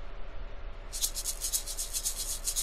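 Maracas in the Dora the Explorer: Click & Create PC game start after a short quiet gap, then shake in quick, even rattling beats, crisp and fairly loud, with no voice over them.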